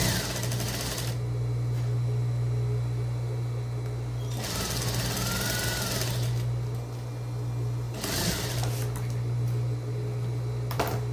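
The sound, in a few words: sewing machine stitching a vest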